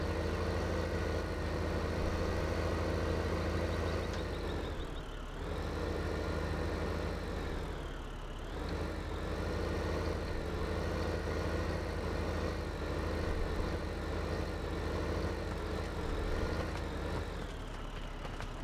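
Low, steady tractor engine idling in a farming simulator game, a continuous rumble with faint game ambience and no talk over it.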